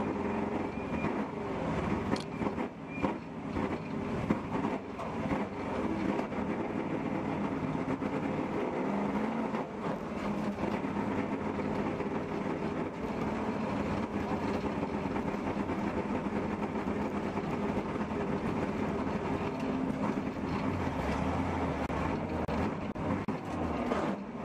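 An endurance race car engine at Road America runs roughly and unevenly at a steady distance, sputtering and droning continuously for the whole stretch without clear changes in revs.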